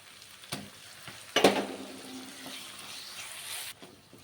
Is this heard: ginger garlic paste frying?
yes